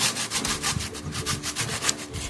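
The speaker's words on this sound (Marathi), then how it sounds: "मी ही जाळफळ किसणी घेतलेली आहे ह्या किसणीने छान बारीक किस पडते आणि पराठे सुद्धा छान लागते असं किसून टाकायचं छानपैकी" Fresh cucumber is scraped over a fine-holed kitchen grater in quick back-and-forth strokes, a close, rhythmic rasping shred repeated about a dozen times.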